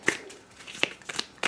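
Cards being shuffled for the Slaughterville board game, in a few short riffling bursts separated by brief pauses, close and fairly quiet.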